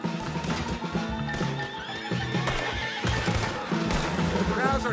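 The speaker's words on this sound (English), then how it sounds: "Put Strauss on the back of John's horse, and let's get out of here" A horse in Red Dead Redemption 2 whinnies loudly over a dense game soundtrack of music and effects, with hoof clip-clop and a voice briefly heard in the mix.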